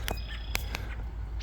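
A parent bird calls from a pine tree near its nest: a few short, sharp calls over steady outdoor background noise.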